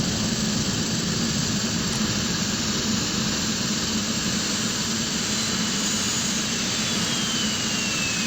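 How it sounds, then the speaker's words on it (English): Aircraft jet engines winding down after the fuel is cut, a steady loud roar and whine heard from close by outside, holding fairly even with no talk. "we hop on outside here as the engines finish spinning down"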